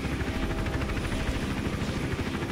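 A helicopter in the video game Hitman Absolution hovers with a steady, loud rotor chop and engine drone throughout.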